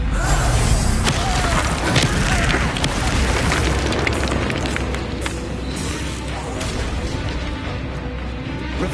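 A Confringo fire spell blasts in Hogwarts Legacy, a booming explosive burst with crashing debris in a dense, loud game soundscape that stays busy throughout.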